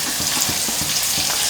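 Finely chopped onion dropped into oil with browning garlic, hissing in a dense, even sizzle with a faint rhythmic scraping underneath, close and steady throughout the brief moment, no voices.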